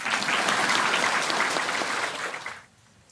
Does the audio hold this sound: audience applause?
yes